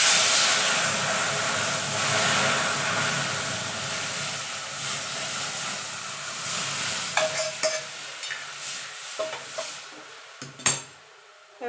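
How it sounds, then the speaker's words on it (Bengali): Lentil dal hits hot oil tempered with black mustard seeds for a sour green-mango dal, giving a steady loud sizzle that fades over several seconds, then scattered clinks of a utensil against the pan. "এবার ডালটা ঢেলে দেবো।"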